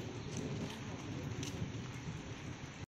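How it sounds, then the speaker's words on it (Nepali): Steady rain pours down for a few seconds, a dense continuous hiss with a low rumble beneath it, no voices, ending abruptly. "पानी पर्यो।"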